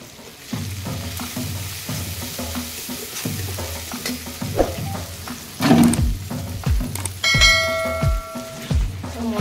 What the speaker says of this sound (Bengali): যতক্ষণ না তেল ছাড়া ছাড়া হচ্ছে তখন আমি নাড়াচাড়া করব।